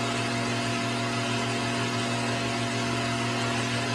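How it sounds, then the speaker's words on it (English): A single speed spa pump fitted with an air switch runs steadily, a loud constant motor hum with strong low tonal drone and broadband whir, unchanging throughout with no voices. "First, we will demonstrate the single speed pump with air switch."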